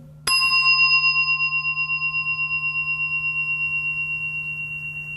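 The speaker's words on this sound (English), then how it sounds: "there's a sound of the bell coming" A mindfulness bell is struck once, its clear metallic tone ringing out near and loud, then slowly fading in a long pulsing sustain with no voices.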